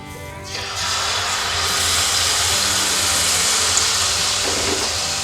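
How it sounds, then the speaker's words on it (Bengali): White oil hitting a hot kadai for malpua bursts into a sudden loud hiss that then holds as a steady, close, roaring sizzle. "আমি এখন সাদা তেল দিয়ে দেবো।"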